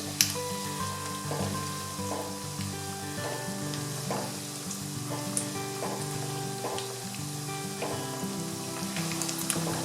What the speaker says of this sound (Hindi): पास्ता को ऑयल में डालकर 3 मिनट तक हिलाना नहीं है और हल्की आंच पर पका लेंगे।